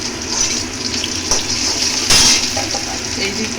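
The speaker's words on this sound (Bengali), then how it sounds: "এবার এদিকের গ্যাসটায় আমি ভাত বসিয়ে দেব হাতের জল দিয়ে দিলাম" Water is poured into a cooking pot of rice on a gas stove, a continuous close splashing gush with a brief spoken word partway through.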